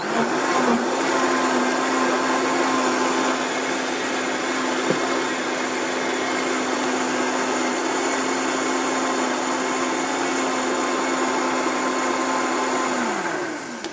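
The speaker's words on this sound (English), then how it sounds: "we could keep it going in the blender for just a few minutes and it would warm it up really nice" A countertop blender whirs steadily, blending raw organic food with fresh unpeeled ginger, a loud continuous motor drone at one even pitch for about fourteen seconds, briefly shifting near the start and winding down at the end.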